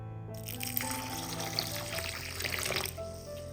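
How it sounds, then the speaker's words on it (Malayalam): Water pours steadily into a bowl of rice and black gram for soaking, a continuous splashing trickle over a low background hum for a few seconds, then stops. "ആവശ്യത്തിന് വെള്ളം ഒഴിച്ചു കൊടുക്കാം"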